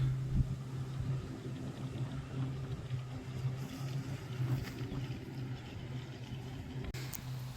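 A Luba robotic lawn mower drives off-road across a yard, giving off a steady low motor hum with a constant droning tone under broadband outdoor noise.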